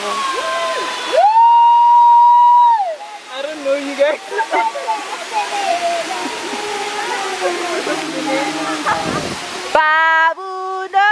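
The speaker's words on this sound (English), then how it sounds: "There is the waterfall." A waterfall's steady rushing roar on the King's Kloof hiking trail runs through the whole stretch, with people talking and calling out over it.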